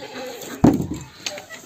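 Goats in fresh snow give a single loud bleat near the middle, with fainter animal sounds and low background murmur before and after.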